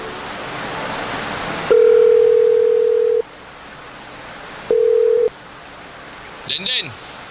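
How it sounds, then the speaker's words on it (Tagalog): A telephone dial tone hums steadily at close range as a call is placed, sounding in two bursts, one long and one shorter, over rain-like background noise, followed by a brief chirpy electronic blip. "Pero may tatawagan lang ako saglit lang."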